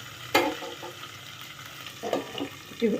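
Chopped onions frying slowly in a pan over a low flame, a soft steady sizzle broken by a few louder scrapes and stirs of a spoon through the pan.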